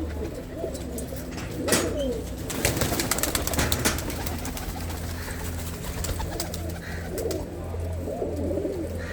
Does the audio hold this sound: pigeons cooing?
yes